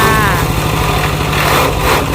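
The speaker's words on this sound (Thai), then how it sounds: "จะพามาดู เครื่องสับหญ้านะคะโดยใช้ เครื่องยนต์คูโบต้าค่ะ เป็นตัวขับ เคลื่อนการทำงานระบบสายพานนะคะ" A two-year-old grass chopper runs on a Kubota engine through a belt drive, still working well; its engine drones steadily and loudly throughout, close by and without pause.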